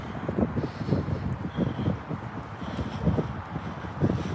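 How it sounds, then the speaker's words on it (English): Strong wind gusting against a microphone outdoors on a breezy waterfront, a steady low buffeting roar with rhythmic thumps, with no speech. "It's kind of windy down here."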